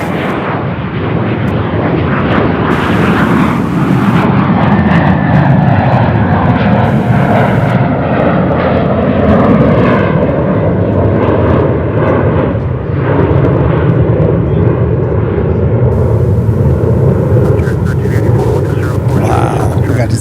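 A jet airliner takes off from runway 36 center at Charlotte Douglas International Airport, its engines roaring loud and steady for the full twenty seconds. Brief spoken comments come through over the engine noise.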